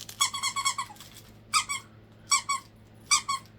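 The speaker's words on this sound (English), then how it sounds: "There is a squeak, and it's got that. You hear that crackle noise that the dogs like?" Bright rubber squeaks from a crackling dog toy from a Temu haul come in quick bursts: one fast run of five or six, then three short pairs, close and fairly loud against a quiet room.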